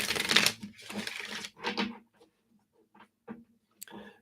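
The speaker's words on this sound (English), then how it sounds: "I kept shuffling the others" Oracle cards are shuffled by hand in a few quick riffling bursts, crisp papery flutters close to the mic, tapering into scattered light taps and pauses.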